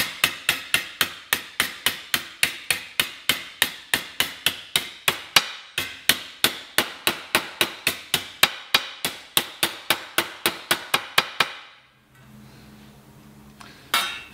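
A hammer taps a mild steel weld in a quick, steady run of sharp metallic strikes, loud and close, for about twelve seconds before stopping, followed by a brief low hum.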